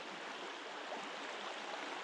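Mountain stream rapids rushing over rocks, a steady, even broadband wash of flowing water, faint and distant with no voices.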